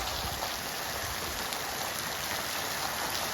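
Steady heavy rain pours down in a village, a dense even hiss of drops on surfaces that continues without a break.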